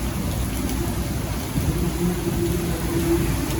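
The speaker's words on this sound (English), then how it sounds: "It's rain." Steady rain falling outdoors, a constant dense patter and wash of droplets at an even level with no talk over it.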